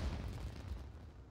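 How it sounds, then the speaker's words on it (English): A firework bursts in the Genshin Impact video game, a deep low boom at the start that rolls into a fading rumble, heard alone with no talk. "A firework?"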